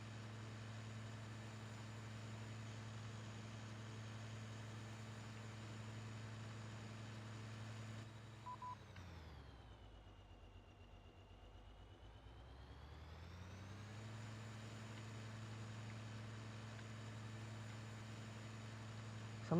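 Gigantic mowing machine in a farming video game, its engine droning in a constant jet-like whine that dips and swells back partway through.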